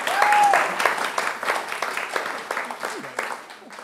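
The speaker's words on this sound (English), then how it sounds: "It's always good to get a round of applause when you haven't done anything yet." An audience gives a steady round of applause welcoming speakers at a genealogy and storytelling talk, moderately loud clapping that gradually thins out, with some voices audible over it.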